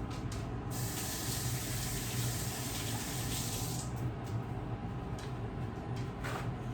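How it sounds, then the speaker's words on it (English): Tap water runs steadily into a kitchen sink as hands are rinsed under it, a continuous close splashing hiss with slight shifts in tone, and no one speaking. "Let me just rinse my hands."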